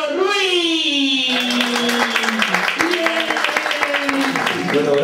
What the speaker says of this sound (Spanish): Un aplauso fuerte de los grandes y enormes del día de hoy para Eusebio